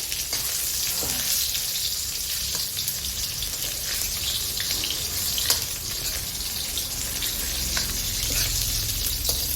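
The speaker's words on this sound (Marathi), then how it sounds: "मस्त असं पनीर गोल्डन फ्राय करून घेतो एकदम सोन्यासारखं गोल्डन वाला पाहिजे" Paneer pieces frying golden in a pan for a no-onion, no-garlic Jain paneer tikka: a steady, close hiss and crackle of hot oil throughout, with no voices.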